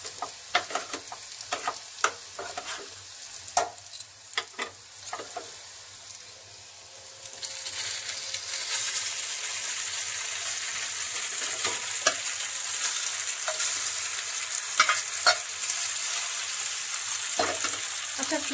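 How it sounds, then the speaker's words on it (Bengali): Pasta fried in a pan over a steady sizzle, first with scattered scraping and clattering stirs, then a louder, denser hiss of frying that swells halfway through, with more stirring knocks close by and no talk. "এখন আমরা পাস্তাগুলো দিব।"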